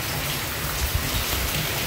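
Steady rain falls in Daet during wind and rain, a dense even hiss of drops on surfaces, close and continuous with no voices.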